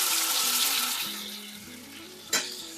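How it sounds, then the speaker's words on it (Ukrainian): Potato pancakes stuffed with meat sizzle steadily in a hot frying pan, a continuous crackling hiss with a brief louder burst near the end and no talking. "Перегортаю, накриваю кришкою та даю просмажитись гарненько ще півтори-дві хвилинки"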